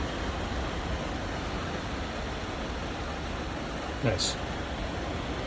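The heater blower fan in a 1964 International Harvester Travelall C1100 gives a steady, even rushing hiss of moving air throughout, with a brief voice speaking near the end.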